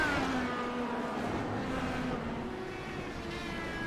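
IndyCar race cars in a sim racing video game drone steadily at high revs, a continuous engine whine that shifts pitch slightly as cars pass, moderately loud throughout.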